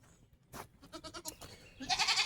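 Goats on a homestead bleat in a short wavering call, faint and somewhat distant, followed by a brief rustling hiss, with no talking.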